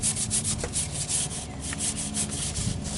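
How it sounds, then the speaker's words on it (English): Red abrasive scrub pad scouring old gasket material off a metal differential cover on a Sport Trac, a close, continuous rapid back-and-forth rasping. "That little red Brillo scrubby does a really good job."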